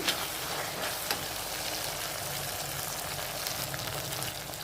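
Onions and ginger-garlic paste sizzle and fry steadily in a pan for an Indian chicken gravy, a continuous close, even crackle with no voices.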